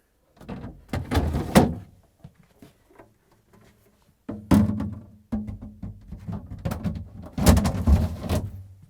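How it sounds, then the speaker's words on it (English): Plastic crisper drawers and a shelf slid back into a Samsung refrigerator during water filter housing assembly, giving a few close, dull knocks and sliding thumps in separate bursts with quiet gaps between them. "I'm going to put the drawers in."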